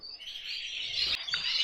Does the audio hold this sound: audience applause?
no